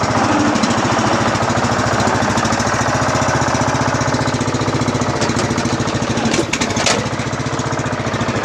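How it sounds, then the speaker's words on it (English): A new Murray lawn tractor's engine runs at idle with the choke off, a steady close chugging drone that holds throughout with a brief dip near the end, outdoors in snowy weather. "So we want to take the choke off. Now to run idle."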